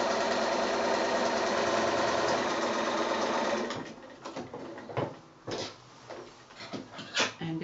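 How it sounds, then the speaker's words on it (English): Domestic sewing machine backstitching fabric for a quilted snap bag, a steady close whirring run for nearly four seconds, then stopping and giving way to scattered light handling clicks and taps. "I'm just going to backstitch up to the top edge and then come back down again"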